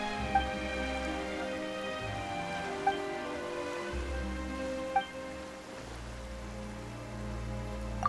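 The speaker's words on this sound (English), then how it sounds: "Why is it raining all of a sudden?" Sudden rain pattering steadily in the Genshin Impact game, with a few sharp chime-like accents and a low musical bed underneath, and no voices.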